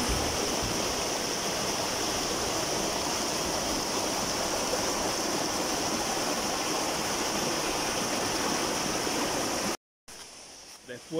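A river at Cerro Azul, Panama rushes in a steady, dense, close roar of flowing water that cuts off abruptly near the end, leaving a short, quieter stretch.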